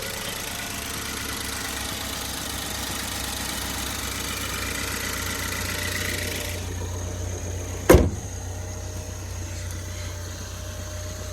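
A 2-liter four-cylinder car engine fitted with a Roush air filter idles steadily after startup, a continuous low hum running throughout, with a sharp click or bump near the end.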